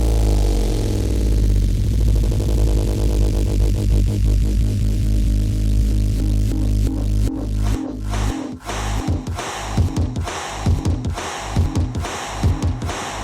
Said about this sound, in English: So what you're hearing now is just the file playing granularly.